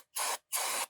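Brake cleaner sprayed from an aerosol can onto a shop towel during a BMW M52/M54 valve cover gasket job: two short, close hissing bursts separated by a brief pause.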